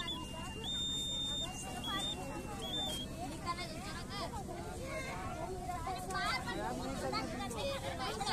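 A flood water level indicator model sounds its buzzer, a steady electronic tone shifting in steps, as people talk over it nearby.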